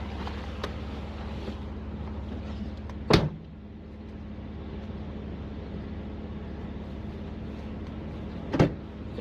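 Van engine idling with a low steady hum that runs throughout, close by, while two sharp clunks stand out above it.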